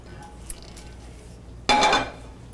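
A frying pan is handled in a home kitchen, giving one short metallic clink and then a louder clattering scrape near the end, alone in a quiet room.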